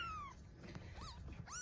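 A kitten meows several times in the background, thin rising and falling cries at moderate distance, ending in a sudden louder burst of noise right at the close.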